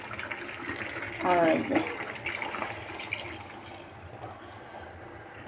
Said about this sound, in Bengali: এখন আমি এটাতে জল দিয়ে দেবো।